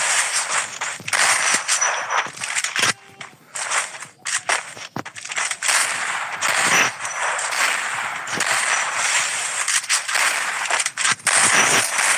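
Rapid automatic gunfire in a first-person shooter video game, with bursts of loud close shots and brief pauses, dense and continuous across the scene.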